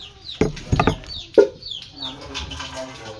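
A few short clucking bursts from a chicken, close by, with quieter rustling and faint bird sounds in the background.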